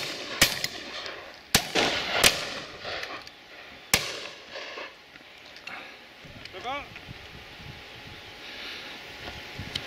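Shotgun shots at partridges on a shooting day ring out as several sharp, loud cracks in quick succession, then a lone shot, echoing outdoors over a soft background with distant calls.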